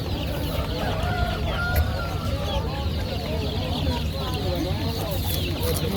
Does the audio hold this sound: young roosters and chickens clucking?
yes